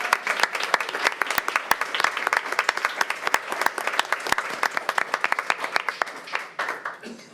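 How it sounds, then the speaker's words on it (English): A graduation crowd honoring the class of 2021 breaks into sustained applause, dense overlapping claps with a few sharp nearby ones, steady for several seconds before tapering off at the end. "Let's give them a round of applause."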